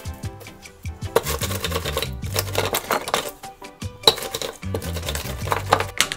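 Cut lemongrass is mixed in a metal bowl or pan, making a busy, close run of clinks, taps and scrapes that continues without pause and carries no talk.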